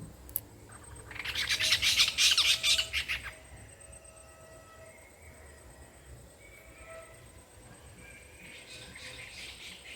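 Barn owls give a harsh, hissing screech that swells loudly for about two seconds, then fades into a quiet outdoor background with a fainter screech near the end.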